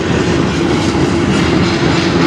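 A CN freight train rolls past at close range in Sarnia, Ontario, with a loud, continuous rumble of rail cars and the rhythmic clatter of wheels over track joints that holds steady throughout.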